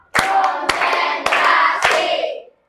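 A school class in an Indonesian classroom claps in a counted pattern: four sharp, evenly spaced claps from many hands ring out close by, followed by a short silence.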